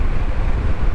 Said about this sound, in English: I hope it's not windy, because it is windy over here